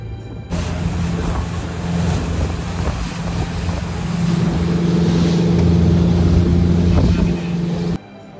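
A motorboat carries passengers across open sea toward the islands of Krabi, Thailand, its engine droning steadily for several seconds beneath heavy wind buffeting on the microphone and the wash of water, cutting off abruptly at the end.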